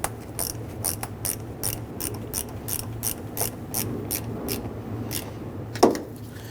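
A ratchet wrench tightens the battery ground terminal on a 2007-2021 Toyota Tundra 4.7L, with a rapid, steady run of sharp metallic clicks close up and a louder clunk near the end.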